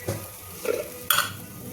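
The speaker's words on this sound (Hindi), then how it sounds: "मसाला पक रहा है" Masala stirred in a pan while cooking broccoli, giving a soft sizzle with two brief scraping stirs of a utensil against the pan, close and fairly quiet.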